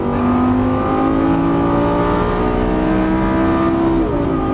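Lamborghini Gallardo engine on a racetrack pulling steadily under throttle, a loud, continuous rising drone with layered harmonics climbing in pitch, close and unbroken throughout with no voices over it.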